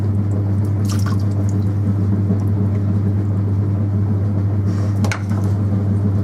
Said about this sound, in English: What I'll have to do is mop all the water out first before I close it in.